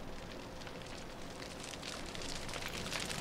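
A wooden shack burning in The Witcher 3, a continuous crackling roar of fire with dense hiss and popping, steady and fairly faint, growing a little louder toward the end.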